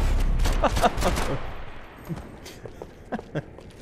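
Gunfire in Max Payne 3, a burst of several loud shots up front, then scattered fainter shots trailing off, with voices talking underneath.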